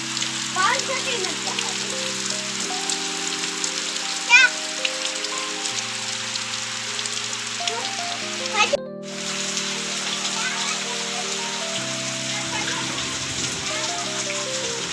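Heavy monsoon rain pours steadily over farm fields after an hour of downpour, a dense continuous hiss close by with faint steady tones underneath.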